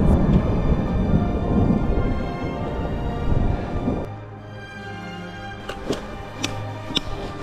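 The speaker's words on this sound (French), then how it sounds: "les orages sans nulle part où s'abriter, c'est pas sympa" A mountain thunderstorm on the Tour du Mont Blanc trail, with a loud, dense roar of rain and rumbling thunder that drops off after about four seconds into a softer patter with scattered sharp drips and ticks.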